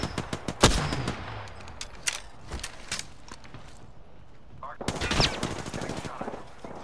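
Gunfire in an online shooter video game, a sharp burst at the start followed by scattered single shots and a second dense volley near the end, fairly loud and close.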